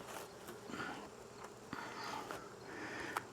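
Honey bees buzz steadily and closely at an opened hive during a late-summer inspection, a soft continuous drone with no talking.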